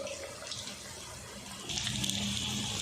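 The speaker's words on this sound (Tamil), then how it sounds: "மீடியம் ஃப்ளேம்லேயே வச்சு நல்லா ஃப்ரை பண்ணிட்டோம்" Onion pakoda drops into hot oil over a medium flame and fries with a steady, watery hiss that swells noticeably partway through, close and moderately loud, with no voices.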